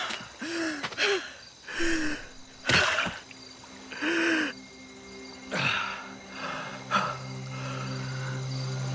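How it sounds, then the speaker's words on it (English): A character's gasp of defeat from an animated Castlevania: Nocturne episode comes as several short breathy gasps and snorts spread across the clip, with a sustained low tone holding steady near the end. "The gasp of defeat."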